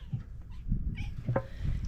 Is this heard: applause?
no